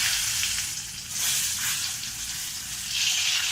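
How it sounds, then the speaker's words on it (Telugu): Eggs fry in oil in a pan with a continuous close crackling sizzle that swells and eases in waves, with no voices over it. "ఎగ్స్ ఒక్కటిగా ఇందులో ఎగ్స్ వేద్దాం ఫ్రై చేయడం కోసం"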